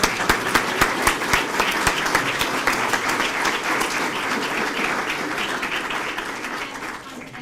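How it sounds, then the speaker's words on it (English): Applause at a police promotional and awards ceremony starts with a few sharp, distinct claps up close and swells into steady crowd clapping that slowly fades. "Let's give him a round of applause."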